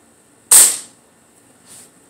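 An airgun fires a pellet at a nail target, one sharp loud crack with a fast decay, then a faint second impact about a second later.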